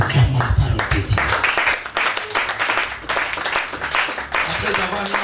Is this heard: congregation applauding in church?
yes